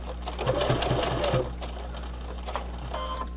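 A sewing machine stitches a filter pocket onto a mast. Its rapid mechanical whirr runs loud and close for about a second, then gives way to quieter handling noise.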